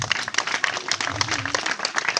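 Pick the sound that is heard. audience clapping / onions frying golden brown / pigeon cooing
audience clapping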